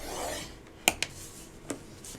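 Paper is scored for a folio: a faint, soft scraping with a few sharp little clicks and ticks, quiet and close.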